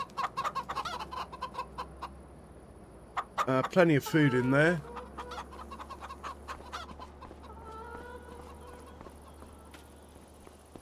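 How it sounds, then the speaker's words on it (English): Chickens in the Farming Simulator 25 coop cluck and squawk in a loud burst around the middle, with softer clucks and bird calls before and after under a steady farm hum; someone speaks briefly. "we'll check on the chickens quickly"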